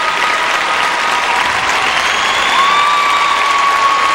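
At Joe Louis Arena, a crowd on its feet applauds Michelle Kwan's figure skating short program at 1997 Skate America, a loud, dense, sustained roar of clapping filling the whole space.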